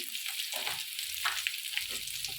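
Nigella seeds spatter in hot mustard oil with dried chillies in a wok, a close, even sizzle with light popping and soft stirring noises beneath, no talking.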